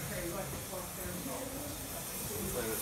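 Steam hissing from a Talyllyn Railway steam locomotive, a broad continuous close-up hiss that fills the whole moment while someone talks over it.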